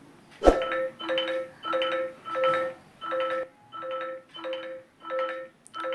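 A Poco X4 Pro smartphone plays its ringtone through stereo speakers, a repeating melodic two-tone chime pattern of about eight even bursts, clear and close, preceded by a sharp tap.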